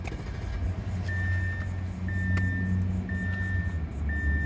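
A 2011 Audi A8 L idles with a steady low engine rumble, close by, accompanied by a faint repeating electronic chime.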